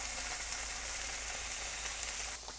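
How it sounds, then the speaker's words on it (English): Tofu pieces, still a little wet, frying in oil over medium heat for a light golden brown in a Korean dish give off a loud, steady, dense sizzle throughout, easing slightly at the very end. "we're going to fry up the tofu a little bit"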